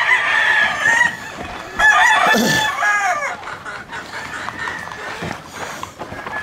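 Roosters crow loudly and close by, one long crow after another with clucking hens in between, no talk over them.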